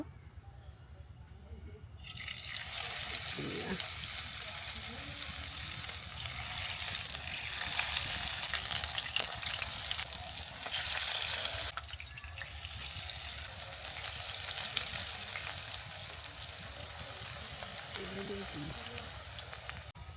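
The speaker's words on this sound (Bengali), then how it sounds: "তেল গরম হয়ে গেছে এখন আমি চপগুলো দিয়ে দিব" After a brief quiet moment, a loud, steady sizzle erupts as shrimp-shell and banana-flower chops fry in hot white oil, crackling continuously and close up throughout.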